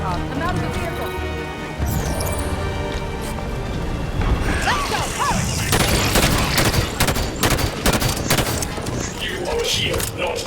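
Dense bursts of gunfire and crashing impacts in a Halo video game battle, loud and continuous, with game voices heard among the shooting.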